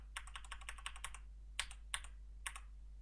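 Computer keyboard being typed on, a quick run of close, crisp key clicks followed by three spaced single presses against a low steady hum.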